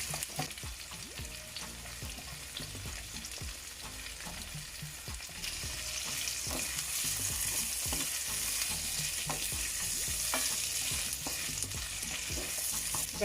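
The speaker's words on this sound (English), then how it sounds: "Just let it saute up a little bit nicely." Vegetables and carrot sauté in a hot pan with a steady, close sizzle and frying crackle, occasional stirring clicks, growing a little louder partway through.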